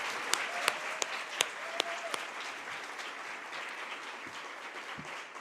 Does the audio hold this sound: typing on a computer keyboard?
no